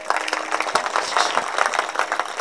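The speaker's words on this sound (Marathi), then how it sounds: "एक बार जोरात टाळी वाजवा आमच्या." A kirtan audience claps loudly together, a dense crowd of hand claps with sharper individual strikes standing out, sustained and close throughout.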